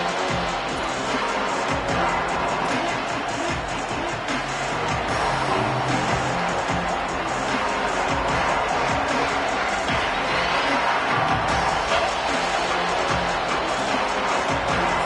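A football stadium crowd at a Yellow Jackets game, a steady, dense roar of many voices filling the whole stretch, with no single voice standing out.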